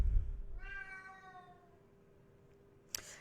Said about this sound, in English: You might hear my cat throughout this recording.